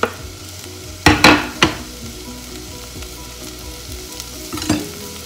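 Onion and bacon fry in a pan for clam chowder, giving a steady close sizzle broken by a few sharp scraping stirs of the utensil, with no talking.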